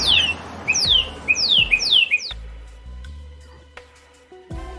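Bird squawks used as a sound effect in a wrestling post-show segment: a rapid series of loud, shrill descending calls at the start, then quieter scattered chirps and clatter, no speech.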